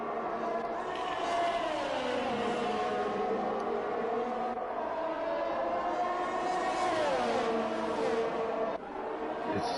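Race car engine in the F1 2021 video game at Jeddah, a loud, high revving whine that rises and falls through gear changes while running in a slipstream down a straight.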